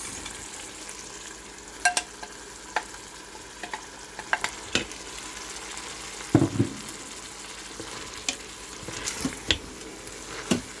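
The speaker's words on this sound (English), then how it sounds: "Then we're going to put in the mushrooms." Mushrooms added to a pot of beef stroganoff with Worcestershire sauce, a soft steady sizzle with scattered stirring clinks and knocks from a utensil, no talk.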